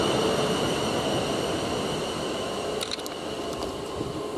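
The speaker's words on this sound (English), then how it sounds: "So I've got two trains. One was going passing by, one was going the other direction." A South Western Railway train passes at Brookwood station, a loud, steady broadband roar of wheels and motors that holds throughout, with a few faint clicks near the end and no talk.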